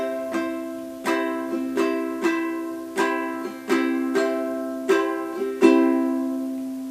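Ukulele strummed in a steady rhythmic pattern on one chord, bright plucked strokes alternating down and up, close and clear with no voices.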